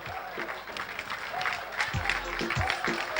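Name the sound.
audience applause and cheering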